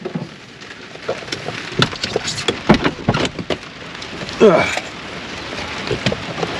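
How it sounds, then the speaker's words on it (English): Rain pattering steadily around a parked vehicle on a Missouri road trip, with a dense wash of drops and sharper hits on surfaces, fairly loud and close with some heavier bursts. "It's definitely raining."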